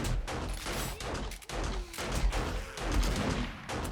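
Rapid bursts of gunfire from a shooter video game, loud and sharp, repeating in dense volleys across the clip with little pause between shots.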